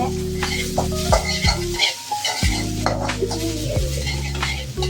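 A spatula stirs food frying in a pan with a steady, close sizzle, scraping strokes repeating throughout, with a low tonal hum underneath and no talk.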